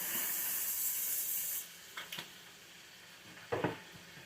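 Cooking spray hisses onto a full pan of food in a home kitchen during meal prep, a steady close spray lasting over a second, followed by a few light clinks and clatters of cookware.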